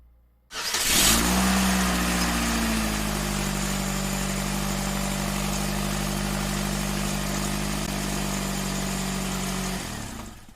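A 2015 Peugeot 308 GT Line engine turns over and revs up with a loud initial rise, then holds at a steady elevated idle for several seconds before cutting off, close and alone.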